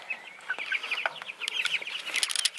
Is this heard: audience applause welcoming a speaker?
no